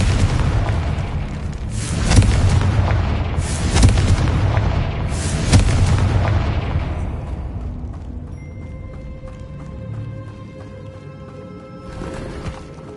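Confringo fire spell explosions in the video game Hogwarts Legacy: three heavy booming blasts about every second and a half, each with a rumbling tail, then fading into quieter game effects.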